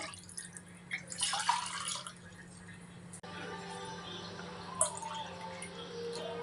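A short splash of water poured from a glass into a cooking vessel, followed by a quiet watery hiss and a single faint drip.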